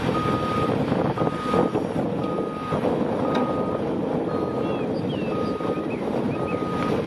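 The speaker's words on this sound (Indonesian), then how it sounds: "Ini ekskavator sedang." A toy excavator beeps while operating, giving a regular series of about seven evenly spaced electronic beeps over a constant motor rumble and some wind noise.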